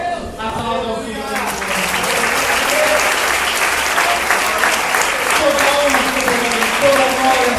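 Congregation applauding at a church worship service, a dense sustained wash of clapping from many hands that swells after a brief opening and holds steady, with a voice speaking over it at the start.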